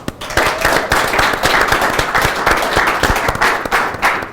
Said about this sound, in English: Please give Helen Young Hayes a big round of applause